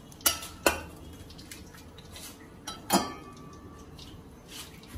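Crispy fried corn kernels are tipped into a dry metal cooking pot, making a few sharp, close clinks and clatters spread apart, followed by quieter scraping and rattling, with no talking.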